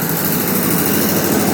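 A Pramac GSL65D standby diesel generator runs steadily nearby, a loud, unbroken engine drone with constant mechanical hum and no talk over it.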